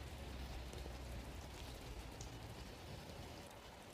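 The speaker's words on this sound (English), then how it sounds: "It's raining." Steady rain falling outdoors, a continuous broadband patter that fills the whole stretch at an even moderate level with no talk over it.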